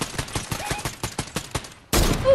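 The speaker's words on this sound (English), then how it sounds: "I just heard major gunshots over here" Gunfire in the video game Fortnite: a rapid series of sharp, evenly spaced shots, followed by a louder, denser blast of noise that swells at the end.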